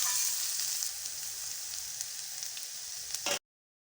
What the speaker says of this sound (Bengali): এরপর ভালো করে ভেজে নিচ্ছি।